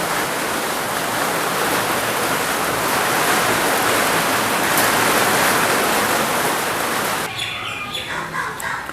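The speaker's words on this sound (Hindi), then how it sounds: "बारिश हो रही है।" Heavy rain falls as a loud, steady, dense hiss close by with faint chirping in the background, thinning out near the end.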